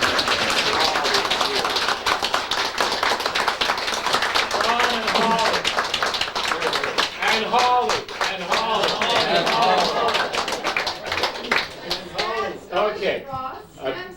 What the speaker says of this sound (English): they deserve a tremendous round of applause for their tremendous contribution